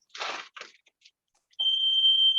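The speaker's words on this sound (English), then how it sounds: "I forgot to take the fire, the smoke detector out." A smoke detector set off by smoke from sand casting bangles sounds a continuous high-pitched electronic tone in the last second, after a few short bursts of hissing noise.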